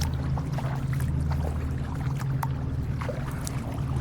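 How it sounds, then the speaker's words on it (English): Paddling 16-foot touring kayaks with dual bulkheads and rudders on a sheltered seaway near Chuckanut Island: steady low wind and water rumble with soft, irregular paddle splashes and drips, no voices. "We're paddling 16-foot touring kayaks today with dual bulkheads and rudders, perfect for paddling these kinds of sheltered seaways."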